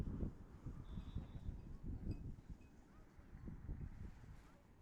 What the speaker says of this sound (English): the wind really starting to pick up right now